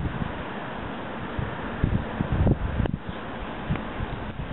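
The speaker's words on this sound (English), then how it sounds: "There's a little wind blowing." Wind gusting through a snowy blizzard outdoors, a steady broadband rush with a few stronger buffets near the microphone, heard alone without speech.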